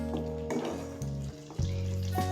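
Afghani egg curry simmering in its creamy gravy in a pan, a soft steady sizzle and bubbling with faint stirring clinks, close and fairly quiet, no talking.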